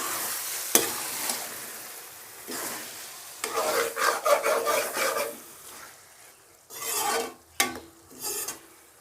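Cauliflower keema being sautéed in a pan: repeated rough scraping strokes of a spoon stirring through the mix, coming in bursts over a faint sizzle, close and fairly loud.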